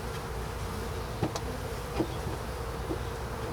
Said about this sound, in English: Nice gentle bees so far.